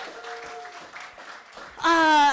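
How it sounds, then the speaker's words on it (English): An audience at the Show and Tell for Grown-Ups live show applauds and cheers for the performers. A burst of clapping and voiced cheering swells loudly near the end, after a stretch of quieter talk. "Now, you guys get to clap for them too, because this was fantastic."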